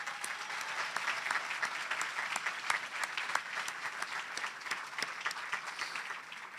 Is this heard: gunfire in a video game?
no